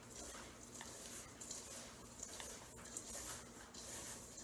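Cookie dough for butterscotch chip cookies being stirred by hand with a spoon in a bowl, giving faint, close scraping and soft clicks of the spoon against the bowl at a slow, uneven pace.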